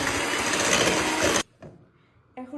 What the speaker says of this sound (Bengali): বিটার একদম ফুল স্পিডে থাকবে